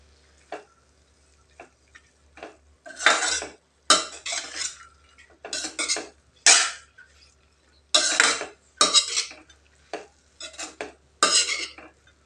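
Spoon scraping and clinking in a pan while drumstick-leaf stir-fry with grated coconut is stirred, a close, irregular run of sharp metallic taps and scrapes coming in bursts with short pauses.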